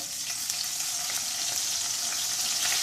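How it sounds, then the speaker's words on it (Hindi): Ginger garlic paste fries in a pan of oil left over from frying kebabs, producing a steady, close, crackling sizzle with no talking. "उसमें मैं 1 टेबल स्पून अदरक लहसुन का पेस्ट डालूंगी। इसको फ्राई करेंगे।"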